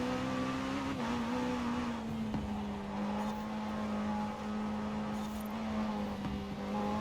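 Automobili Turismo e Sport GT engine in Forza Horizon 4 accelerating hard out of a corner, a steady loud drone that climbs slightly in pitch and holds throughout with faint tire noise.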